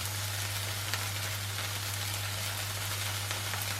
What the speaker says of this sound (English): I've got my cheese. I'm going to pop it on the pan.